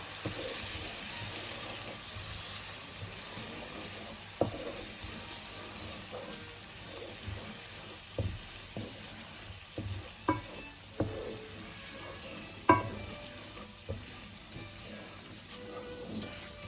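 Risotto alla milanese rice being stirred constantly in a pan while it soaks up wine gives a soft, steady sizzle, broken by light scraping and tapping of the spoon at irregular intervals, close and quiet with no talk.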